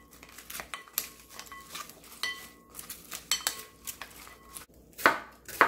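Half an onion sliced with a knife on a cutting board, a series of close, crisp chops in an uneven rhythm, heard alone.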